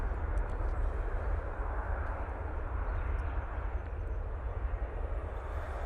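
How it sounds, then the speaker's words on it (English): A Ryanair airliner arriving from Lanzarote at Manchester Airport in low visibility, a steady broadband engine roar with a deep low rumble holding evenly throughout at moderate distance. "That's the Ryanair coming in from Lanzarote."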